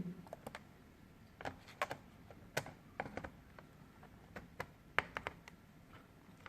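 Lenovo G560 laptop keyboard being pried loose with a flat screwdriver, giving a string of sharp plastic clicks and snaps at irregular intervals, close and fairly soft, with no talking.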